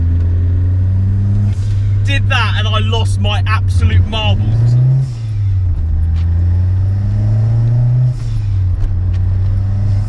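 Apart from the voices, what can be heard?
Renault 5 GT Turbo dump valve and engine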